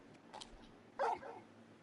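The dog Torgal in the video game Final Fantasy XVI gives a couple of short, soft barks or yips, the second one slightly louder, with no one talking.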